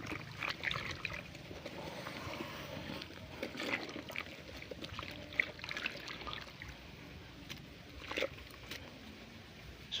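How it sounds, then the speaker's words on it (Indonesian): Trichoderma biofertilizer being stirred into water for fermenting manure compost, giving a steady wet sloshing and trickling with scattered splashes throughout, moderately near and without talk. "Kita campur aduk sampai merata dengan air."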